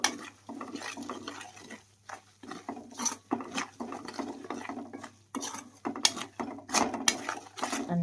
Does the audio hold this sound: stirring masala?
yes